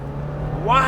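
A 2021 Jeep Wrangler 4xe in hybrid mode with a 2-liter turbo engine accelerating hard, a low drone rising into a climbing engine whine near the end, growing louder.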